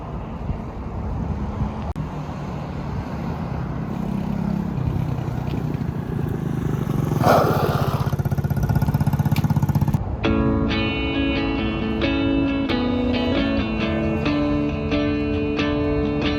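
A hand-started motorcycle engine runs steadily, a loud continuous rumble with wind buffeting the microphone; partway through a harsher rise gives way to a bright, tonal ringing idle that carries on to the end.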